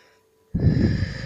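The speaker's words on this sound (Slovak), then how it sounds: "výdych hlboký do zeme" A deep exhale during meditation breathing, with a hushed start giving way to a loud, close, breathy rush of air that holds steady to the end.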